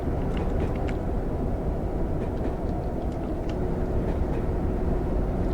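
Three-coach Class 101 diesel multiple unit running in Train Sim 2021 on a line from Radstock to Frome Market, a steady loud low engine and rail rumble with faint clicks over it, no talking.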